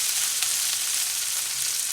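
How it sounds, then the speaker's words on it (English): Chopped onions fry in a pan for keema curry, giving a steady, close, even sizzle with faint stirring scrapes and no talk. "Add your chopped onions. Give it a stir."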